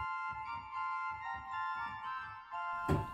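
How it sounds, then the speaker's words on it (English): A bright 2 foot flute stop on the Oude Kerk Veenendaal church organ sounds alone in a few short, high sustained notes, steady and moderately soft, ending with a brief burst of noise. "Then we've got a 2 foot flute."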